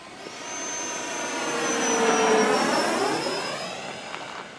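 A model RC jet airplane flies past with a loud turbine whine that rises as it nears and sweeps overhead, then fades slightly as it moves away, heard alone.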